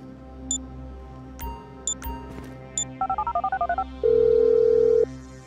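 A phone call is dialed in Grand Theft Auto V: a few short menu beeps, a quick run of rising dial-tone keypad tones, then a steady ringing tone, clear and close with no talk.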